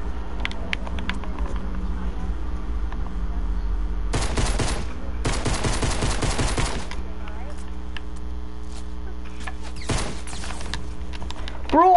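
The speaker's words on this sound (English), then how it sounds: "I just killed him with the common pistol." Rapid bursts of common pistol gunshots in a video game crackle out in three quick volleys over a steady tonal background hum.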